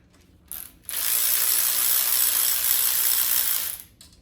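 A ratchet loosens the oil pan bolts on a 615 hp Ford 351 Cleveland engine with low compression: a short burst of clicking, a pause, then about three seconds of steady, loud, close ratcheting that stops abruptly.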